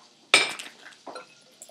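A spoon clinks and scrapes against a bowl while boiled, lightly salted rice is mixed with parsley and zest for risotto cakes; a sharp burst of clatter comes first, then a softer scrape a moment later.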